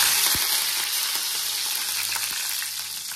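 Curry leaves crackle and sizzle in hot oil with a dense, steady frying hiss and a few sharp pops, close and loud, with no voices.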